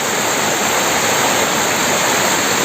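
Floodwater rushing along a flooded road: a dense, continuous, loud hiss of flowing water, steady throughout without pauses or voices.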